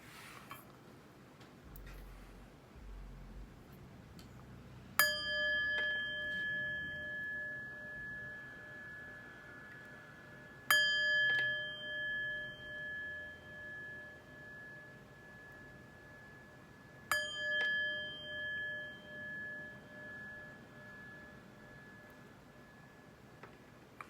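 Three clear chime strikes ring out about six seconds apart, each a bright metallic tone that sustains and slowly fades, over a quiet background.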